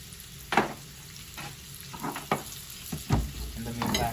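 Curry sizzling over a low flame in a pan, a steady broadband fry with a few spoon scrapes and stirring clatters scattered through it.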